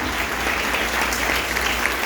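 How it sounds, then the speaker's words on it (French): Steady applause fills the hall for a student award winner at a school graduation ceremony, a dense, even patter of many hands clapping at moderate volume throughout, with faint crowd murmur beneath. "Sous vos applaudissements, s'il vous plaît."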